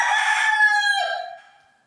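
A rooster's crow, loud and close, holds steady for about a second and then trails off and fades into silence.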